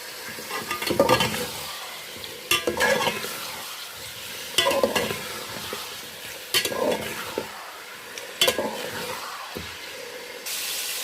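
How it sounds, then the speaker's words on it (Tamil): Tofu stir-fried in a pan for a vegetarian sothi sizzles steadily, while a utensil stirs and scrapes it in bursts about every two seconds. "தவு வந்து கொஞ்சம் வதங்கினா போதும், பொரிக்கலாம் வேணாம்"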